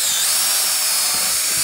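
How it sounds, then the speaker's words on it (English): A power drill whines steadily and loudly up close while drilling into a boat during rub rail installation, running continuously without pause. "So I have my drill there."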